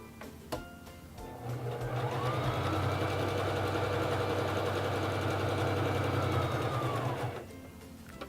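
A Singer Fashion Mate 3333 sewing machine stitches at long stitch length, running in one continuous steady whirring burst of about six seconds, close and clear, with quiet pauses before and after.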